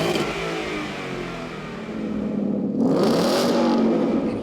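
A stock 2016 Ford Mustang GT V8 revs up and down in repeated swells, a deep, smooth growl close by that rises sharply near the end.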